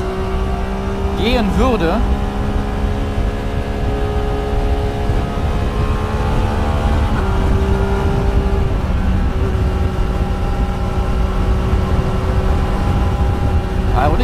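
Motorcycle on the Autobahn, its engine droning loud and constant with tonal revs rising and shifting while a rider speaks briefly over heavy wind and road roar.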